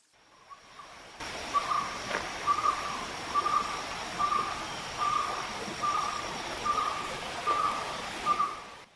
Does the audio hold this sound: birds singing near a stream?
yes